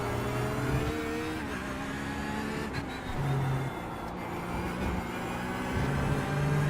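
A Porsche 911 GT3R racing engine in iRacing at Brands Hatch, revving and droning steadily with pitch rising and falling as it pulls out of a corner, loud and continuous.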